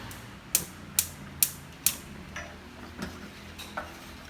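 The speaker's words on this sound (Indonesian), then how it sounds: "Selagi dimasak jangan lupa diaduk-aduk terus biar santannya nanti nggak pecah" Cassava in coconut milk is stirred in a pot on a stove with a spoon, giving four sharp scraping clinks against the pot at an even pace, then fainter softer taps as the stirring slows.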